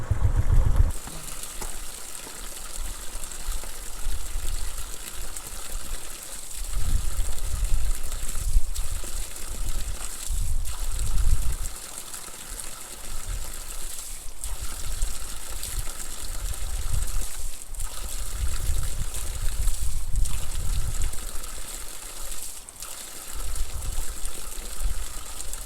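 Spring water pours from a pipe at a mountain stop near Noori Top in the Neelum Valley, Kashmir, a steady close splashing gush that runs almost unbroken, swelling and easing now and then.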